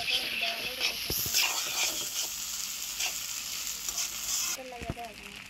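Previously fried eggs are added to a sizzling pan and stirred, with a steady close hiss of frying throughout and a few sharp clanks of the utensil against the pan.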